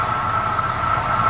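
An Oldsmobile car engine idles with a steady, even rumble and constant hum, heard briefly and alone at close range.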